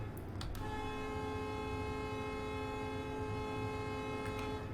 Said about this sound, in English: Use your horn to warn that the train is approaching